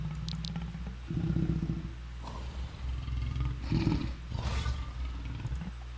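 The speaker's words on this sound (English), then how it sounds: "You can growl." Growls from a lion avatar in Second Life come in several rough, rumbling bursts, loud and close, separated by brief pauses with no speech.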